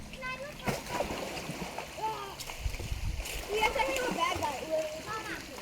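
Two young girls in pink swimsuits and their brother splash about while playing in the water, with irregular splashes and bursts of children's voices and chatter throughout, fairly close.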